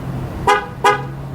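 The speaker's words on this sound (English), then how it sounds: "you're going to lock it twice to where it honks" A 2013 Chevrolet Equinox horn gives two short, loud honks in quick succession as the doors lock by remote, with a steady low engine hum underneath.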